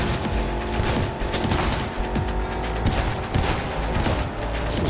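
Rapid gunfire from Cyberpunk 2077, a loud, dense fusillade of shots and booms repeating throughout with no pauses.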